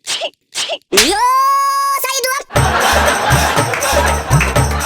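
A sharp, drawn-out sneeze rising to a loud burst, followed by a crowd laughing and chattering.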